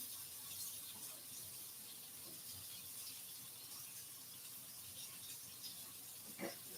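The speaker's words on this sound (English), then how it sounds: "Let me put my water on, make my tea." Tap water runs steadily into a kettle being filled for tea, a constant hissing rush with no speech, ending with a brief faint clink.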